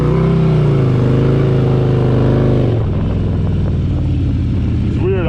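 A Harley Dyna motorcycle engine revs repeatedly while the bike spins donuts, a loud, near, wavering roar with rising and falling throttle surges, fading into rougher rumble near the end.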